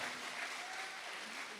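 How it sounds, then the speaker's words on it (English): Brief applause from an audience at a Q&A session with an MMA fighter at a Muay Thai and MMA camp, a dense, even wash of clapping lasting under two seconds. "a round of applause for that"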